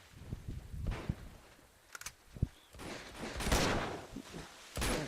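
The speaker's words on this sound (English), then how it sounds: "Boom, boom, boom, gunshots and screaming and everything." Gunfire from the video game Uncharted 2: Among Thieves in a jungle level, a quiet flurry of scattered shots and thuds mixed with footsteps and mechanical clatter at low volume.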